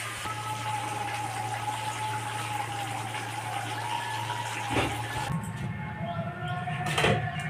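Water used to rinse a spice grinder pours steadily into a pot of browned, cooking pork for about five seconds, then stops, followed by a few close clatters against the cookware.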